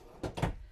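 A cabinet drawer in the bathroom of a 2022 Blackstone 250RKS Titanium Series travel trailer slides and bumps shut, two quick soft knocks close by in a quiet room.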